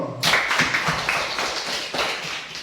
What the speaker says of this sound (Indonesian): Tepuk tangan buat Pino.